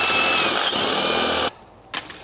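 A power drill running a 27/64 bit through metal to make a hole for a riv nut, a steady loud whine for about a second and a half, then stopping, followed by a brief rattle.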